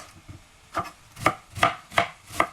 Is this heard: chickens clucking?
no